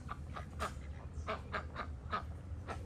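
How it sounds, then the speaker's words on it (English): Ducks quack outdoors in a park or beach setting, a run of about eight short, rhythmic calls at moderate distance over a low background rumble. "watching the ducks"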